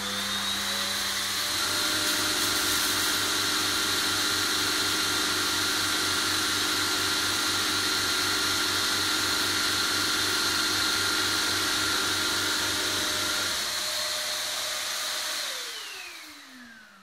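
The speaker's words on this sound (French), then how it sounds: "Ça va lui servir à vider son petit bac dans le gros bac du gros aspirateur" A Deebot R96 robot vacuum empties its small dustbin into the larger bin of its base station, a steady loud motor whine and airflow roar running for about fifteen seconds before winding down.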